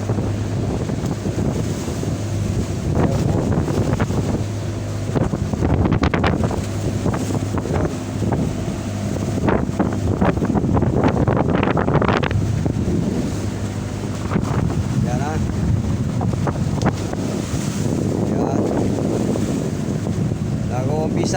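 Strong wind roars and buffets the microphone continuously aboard a fishing boat in choppy seas, with water sloshing and someone talking intermittently underneath.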